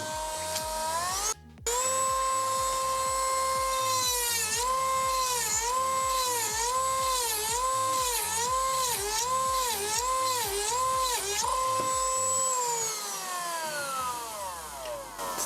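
Worcraft CEMG-S20Li cordless rotary engraver running alone at higher speed, a steady high-pitched whine that rises after a brief cutoff and then wavers rhythmically up and down as the speed and load shift.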